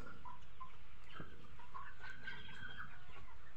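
Chickens on a poultry farm with around 200 birds, soft clucks and short calls rising over a steady hum of the flock at moderate distance.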